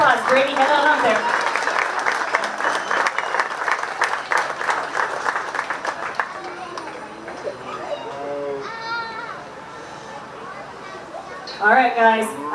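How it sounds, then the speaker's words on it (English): An audience claps at a county fair 4-H bottle calf show for the young exhibitors, a steady burst of applause over crowd noise that fades as an announcer's voice and children's chatter take over. "let's give these kids a round of applause"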